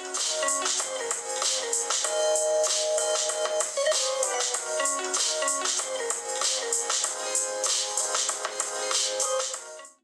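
Music plays through the flat-sounding loudspeaker of a Cubot King Kong 3 rugged phone, thin and tinny with no bass, running steadily for about ten seconds before it cuts off.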